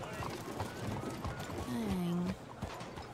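A horse in the video game Red Dead Redemption 2 clip-clops along with quick hoofbeats, then gives a short whinny near the middle, fairly quiet, with a voice faintly underneath.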